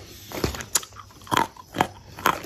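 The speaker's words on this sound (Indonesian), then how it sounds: "ini crispy banget guys, mari kita coba" Crisp bites into fried sweet potato sticks made without egg, several sharp crunchy snaps spaced about a second apart, close and fairly quiet, with no talk.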